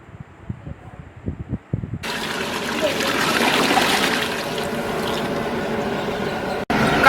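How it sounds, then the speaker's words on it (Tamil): Water pours steadily into a large pot of vegetable biryani with carrots, potatoes and beans, a loud continuous rush lasting several seconds after a few brief clinks and knocks at the start. "தேவையான அளவு தண்ணி ஆட் பண்ணிக்கலாம்."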